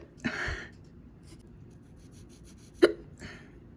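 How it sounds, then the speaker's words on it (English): A person hiccups twice, short sharp throaty catches about two and a half seconds apart, close and clear with faint breathy sounds between and no speech. "I have the flip-flopping hiccups."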